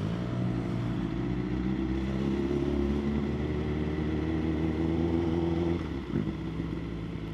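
A BMW S1000RR sport motorcycle ridden in Dakar holds a steady, loud engine drone heard from the saddle, with a brief dip and shift in pitch toward the end before the tone resumes.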